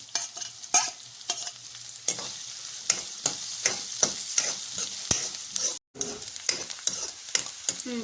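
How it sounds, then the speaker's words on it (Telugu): Garlic and onions fry in hot oil for veg Manchurian, a steady crackling sizzle broken by sharp scrapes and taps of a spoon stirring the pan at a fairly regular pace, with a brief silent gap near the end. "ఇప్పుడు అందులోనే కొంచెం ఆయిల్ తీసేసుకొని కొంచెం ఎల్లిపాయలు, ఆనియన్స్ వేసేసుకోవాలి."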